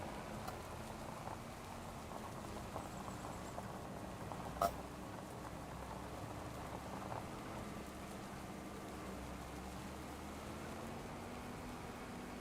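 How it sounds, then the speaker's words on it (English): Rain falls steadily outdoors on a farm, an even, continuous patter that holds at the same level from start to finish, with one brief sharp tick near the middle and no voices. "It's raining"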